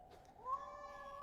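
A single drawn-out cat-like meow with a rising, wavering pitch, made by a person imitating a cat in a video game, clear and fairly close with no other talk.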